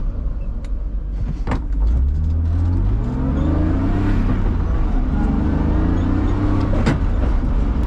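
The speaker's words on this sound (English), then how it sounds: "This transmission's third gear grinds." BMW E36 drift car with a ZF transmission accelerating through the gears, its engine rising in pitch loud and close as third gear grinds under the revving, with a few clunks.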